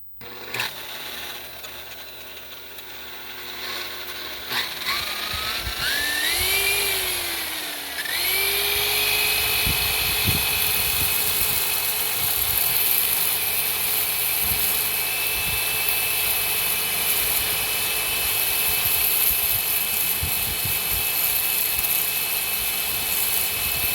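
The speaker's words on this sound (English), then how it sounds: "spool this up about as fast as it'll go. Lock the speed in. Run the spur over it gingerly, back and forth" A buffing pad is spun up to full speed and cleaned with a spur: a loud motor whine ramps up in pitch, settles into a sustained high drone, and carries scraping, knocking contact noise throughout. No speech.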